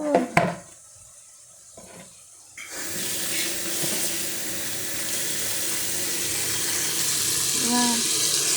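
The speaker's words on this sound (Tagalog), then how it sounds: "so hugasan natin ang salad natin para makain natin" A tap runs steadily into a sink as fresh garden salad leaves are washed, a broad continuous splashing rush that starts after a few seconds of quieter handling sounds.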